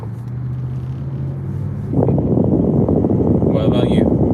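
The steady low rumble of a car heard from inside the cabin hums throughout and swells louder after a couple of seconds as it picks up speed, with a person talking over the road noise.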